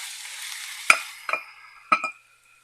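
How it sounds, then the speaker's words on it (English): Ground beef browning in a pan for a hamburger noodle casserole, a steady close sizzle broken by a few sharp scraping and tapping stirs, about three distinct hits, then falling quiet at the end. "I'm going to brown all this meat."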